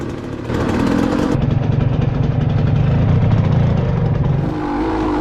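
A KTM 200 dirt bike engine runs out on a rocky trail, its motor feeling soft and not cleaning out well. The close, steady buzzing drone holds at a constant loudness with slight shifts in pitch and revs, and no voices.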